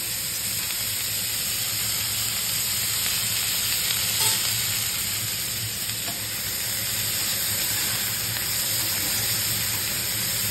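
Onion, carrot, sesame seeds and panch phoron fry in a pan, a loud continuous close sizzle and hiss with faint stirring scrapes and no talk.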